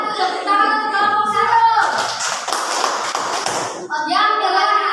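Students in a classroom clap for the winning group, a burst of hand claps a couple of seconds long between stretches of a voice and a tonal sound, fairly close.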